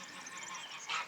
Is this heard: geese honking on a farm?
yes